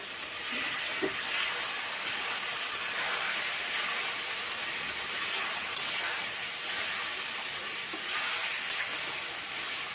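A chicken masala mixture sizzles and fries steadily in a pan while being stirred, a dense, close hiss throughout with a few faint scraping clicks of the spoon.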